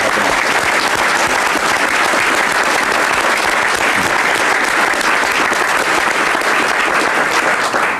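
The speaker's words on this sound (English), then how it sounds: "we should really give him a big round of applause for stepping up." An audience applauds steadily at a ceremony where Arkansas Governor Mike Beebe signs House Bill 1204 on comprehensive health care. Dense, even clapping fills the whole stretch at close, loud level with no break.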